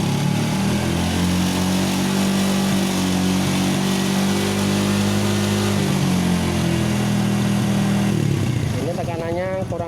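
A fuel-injected motorcycle engine runs steadily at close range with a loud, continuous mechanical drone. Near the end the tone shifts and someone talks over it.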